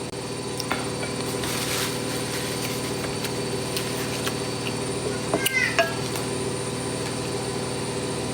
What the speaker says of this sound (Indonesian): Suara kucing bunda kayak anak bayi.